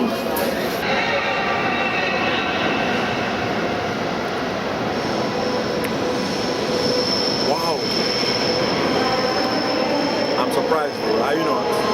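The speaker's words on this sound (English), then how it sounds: "From here, you see all sorts of trains." Trains at Hamburg central station, a loud continuous rumble of rolling wagons with high wheel squeals rising and fading, a nearby voice speaking intermittently over the rail noise.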